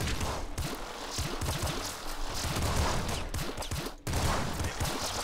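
Rapid gunfire bursts from the top-down shooter Nuclear Throne on PC, dense repeated shots layered with game effects, steady and fairly loud throughout with a brief dropout near the end.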